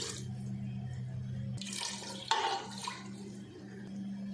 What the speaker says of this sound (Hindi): मैं इसमें 3 गिलास पानी डाल रही हूँ